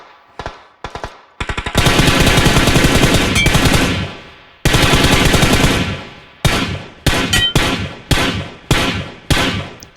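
Loud gunfire in the PUBG Mobile video game: a few single shots, then long sustained automatic bursts, followed by a string of shorter bursts, all close and sharp.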